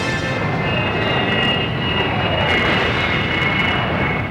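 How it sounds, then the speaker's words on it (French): Film effect of Star Wars fighter ships taking off, a steady roaring whoosh of engine noise with a high whine that holds loud and continuous throughout, with no talk. "ces loupiotes qui s'envolent devaient simuler en 1977 le décollage de chasseurs de combat"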